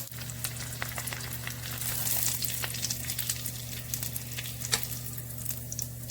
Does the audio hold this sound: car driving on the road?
no